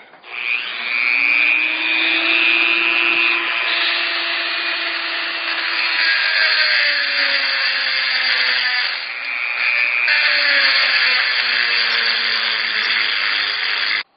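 A high-pitched Dremel rotary tool whines continuously, its pitch shifting slightly as it grinds and sands against a shotgun part, loud and close.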